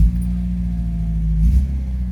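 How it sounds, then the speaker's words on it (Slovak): A cold car engine with a carburettor still needing adjustment runs close by with a loud, steady low rumble, swelling briefly in a small rev before settling again. "Auto štartuje."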